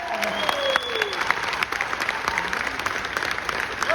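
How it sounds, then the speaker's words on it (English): An audience at a keynote event applauds teachers and administrators, steady thick clapping from many hands, with a few voices and whoops rising faintly above it. "If everyone could please give a round of applause to all of the teachers and administrators in the room."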